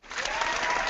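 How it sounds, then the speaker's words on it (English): Hand clapping swells into a dense, steady burst of applause that lasts about a second, sounding like a group clapping together. "And I'm going to clap one more time"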